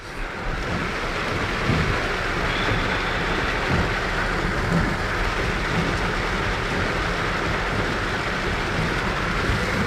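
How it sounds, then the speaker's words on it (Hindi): Heavy rain pours steadily on a street in Ajmer city, a dense, loud, unbroken hiss that lasts throughout with no pauses or voices. "यहाँ पर काफ़ी तेज बारिश अजमेर शहर में शुरू हो चुकी है।"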